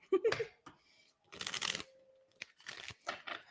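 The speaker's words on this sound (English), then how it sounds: "One more shuffle." Tarot cards are shuffled at a weekly reading, in several quick riffling bursts that are close and crisp, separated by short pauses in an otherwise quiet room.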